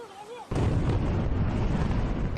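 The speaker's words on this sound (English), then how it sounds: "A deafening explosion at this aluminium factory after a nearby river burst its banks." An explosion at an aluminium factory after floodwater from a nearby river reached it, a sudden loud blast that breaks in after a quiet moment and rolls on as a sustained roar.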